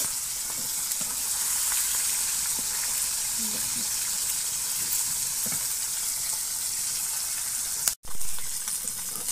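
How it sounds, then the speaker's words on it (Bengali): Fish frying in a pan with tomato, being turned side to side, giving a loud, continuous close sizzle that runs steadily throughout, with one brief sharp break near the end. "আপনারা দেখতে থাকুন কীভাবে মাছ এপিট ওপিট করে ভাজে নিই।"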